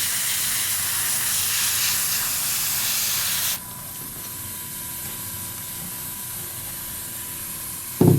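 Spray painting of model groundwork for a Brummbar diorama: a loud airy hiss of spray for a few seconds, then a quieter steady hiss with faint hum, ending in a brief clunk.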